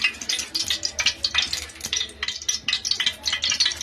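Whole spices such as bay leaf, cinnamon, cloves and black pepper hitting hot oil for chicken keema, a close busy crackle and sizzle with small stirring scrapes and utensil clinks throughout, no voice.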